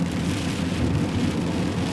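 Steady heavy rain hisses and patters continuously, close and fairly loud, with no voices.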